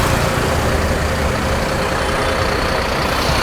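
A green Bharat Benz-built FlixBus coach on a Pune to Nagpur run drones with a loud, steady engine hum and road rumble from inside, continuous and unbroken, with no talking.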